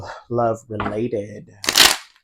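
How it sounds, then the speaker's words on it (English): A deck of tarot cards is shuffled in a brief, crisp riffling burst near the end, following close speech from a person. "I've shuffled this a few times"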